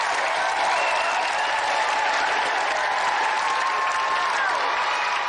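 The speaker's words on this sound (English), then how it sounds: "let's have another round of applause for our champion Gary Harrod and our gallant finalist Paul Lakin" Applause from a studio audience at a Christmas game show for the champion and the finalist: steady dense clapping, fairly distant and even throughout.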